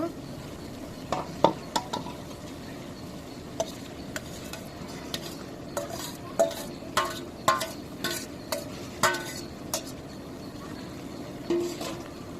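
Dried fish curry being sautéed and stirred in a pan: a low, steady sizzle broken by irregular scraping clicks and taps from the spatula, fairly close and with no voices.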